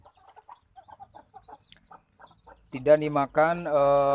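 Faint chirping and clucking from free-range village chicks at first, then loud, insistent, high-pitched cries close by in two long bursts.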